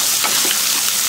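Onion and green chilli sautéing in a pan, a dense, loud hiss of frying oil with faint stirring taps, close up and brief.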